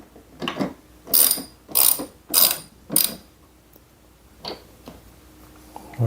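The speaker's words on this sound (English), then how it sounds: "Let's tighten up the bolt." A ratchet tightening a bolt while installing an off-grid solar system clicks loudly in four quick, evenly spaced bursts, followed by a few softer clicks, close up and with no talking.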